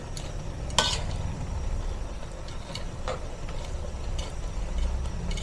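Pancit canton noodles with celery and other vegetables being stirred in a hot pan, a steady soft sizzle with scraping clinks of the utensil against the pan, one sharp knock near the start.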